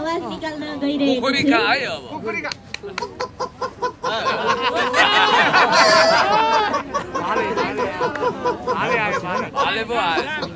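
A voice imitates a chicken with clucking and squawking sounds, loud and close, over a busy burst of mixed vocal noise and laughter-like chatter.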